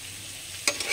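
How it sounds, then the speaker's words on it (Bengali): Cabbage and thinly cut potato hiss softly in a frying pan before a sudden spatula scrape and stir bring a brief louder clatter at the end. "বাঁধাকপিটা একটু ভাজা করছি, কোনো তরকারি না।"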